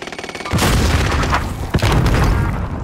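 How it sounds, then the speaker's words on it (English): A grenade detonates in a first-person shooter match, a loud booming blast that opens abruptly and rumbles on, followed moments later by a second sharp thump and a sustained roar, with no voices. "Grenade's flying."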